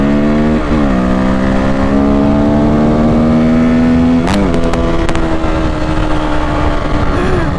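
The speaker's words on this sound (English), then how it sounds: "We got ourselves a Harley rider right there." A Harley motorcycle rides past on the road with a loud, close engine drone whose pitch dips and rises as it passes. Crisp clicks cut through the steady roar partway through.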